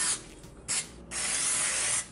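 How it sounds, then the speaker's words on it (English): Three bursts of cooking spray hiss onto a waffle maker, two short and one longer, close and loud with no talking. "I'm gonna spray both sides of our waffle maker with our cooking spray."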